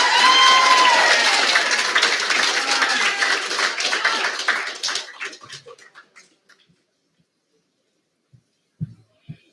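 Loud audience applause after a school speech at a Pasifika cultural festival, dense clapping mixed with cheers that fades out over about five seconds, leaving a few scattered claps and quiet.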